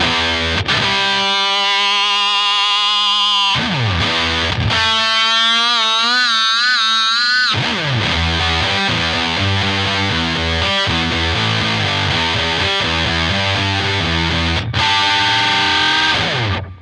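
A heavily distorted electric guitar plays the main riff of a song, loud and close: sustained wavering notes that give way to a choppy, driving rhythmic pattern, with no talking.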